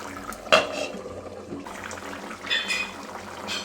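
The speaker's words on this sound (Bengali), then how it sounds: "যে মাছগুলো ভেজে রেখেছিলাম তো এবার একে একে মাছগুলো দিয়ে দেবো" Fried fish pieces go one by one into simmering broth for a light Bengali fish curry, giving a few soft splashes and clinks of a pan over a low, steady bubbling, close by.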